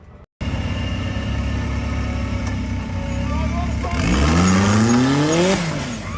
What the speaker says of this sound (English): Danny goes to the throttle and out the drop